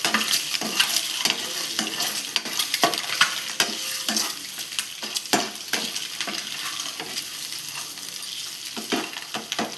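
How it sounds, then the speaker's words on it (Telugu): Boiled eggs roasting in a pan with salt, coriander powder and turmeric: a soft constant sizzle broken by frequent sharp scrapes and taps of a stirring spoon, close and steady throughout with no talking. "కొంచెం సాల్ట్, కొంచెం ధనియా పౌడర్, కొంచెం పసుపు వేసుకొని రోస్ట్ చేసుకోవాలి."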